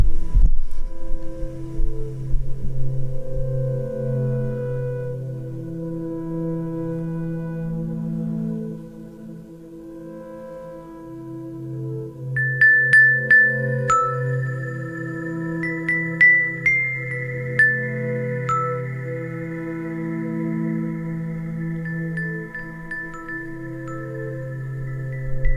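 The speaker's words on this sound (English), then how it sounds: "now I will try to create a loop with this Metallophone thingy" Metallophone notes layered into a repeating loop with reverb, sustained ringing tones overlapping with a low hum, a higher bright chime line entering halfway and continuing to the end.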